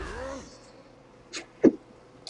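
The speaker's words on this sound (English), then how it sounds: "I'm sneezing so much" A person gives a short, sharp sneeze, then a second louder one just after, both brief and close against a quiet background following some speech.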